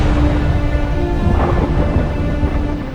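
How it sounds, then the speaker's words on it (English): Rolling thunder with heavy rain from a thunderstorm in a Star Wars: The Clone Wars episode, a loud continuous rumble and downpour filling the whole stretch. "Oh, storm clouds."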